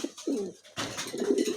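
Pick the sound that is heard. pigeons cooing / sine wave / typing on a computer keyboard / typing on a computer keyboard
pigeons cooing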